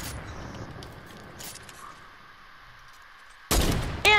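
A sniper rifle in a video game fires one loud, abrupt shot near the end, followed by another sharp blast, after a long quiet stretch of low ambient game noise and a faint earlier crack.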